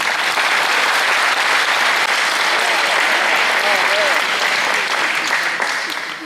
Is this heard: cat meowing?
no